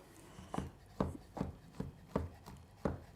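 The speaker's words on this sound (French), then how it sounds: "je coupe en petits morceaux pour avoir des petites bouchées à la fois" A knife chops food into small pieces on a board in distinct sharp cuts, about seven in a fairly regular rhythm with brief rubbing between strokes, close and moderately loud.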